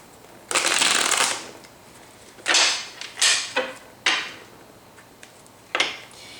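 Tarot cards are shuffled by hand in several separate riffling bursts, a long one first, then four shorter quick ones with pauses between, close and crisp with no speech.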